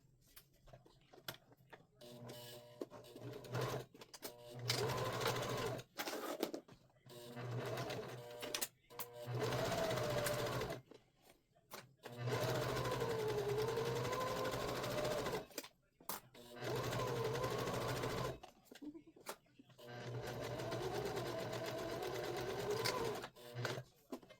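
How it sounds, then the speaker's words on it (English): Sewing machine sewing a Carriers Conquest bag seam at a 3/8-inch allowance, running in repeated close bursts of several seconds each, separated by short pauses, with a light mechanical ticking throughout. "So we're going to sew this at 3/8 of an inch, and then we're going to press it and top stitch"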